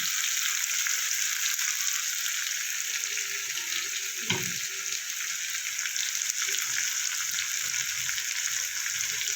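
A paste of ginger, garlic, onion, tomato, sesame, poppy seed and green chili fries in a pan with a steady, dense hiss throughout, broken by a single clatter from a utensil midway; no talking.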